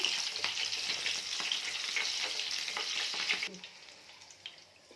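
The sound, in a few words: green chillies frying in oil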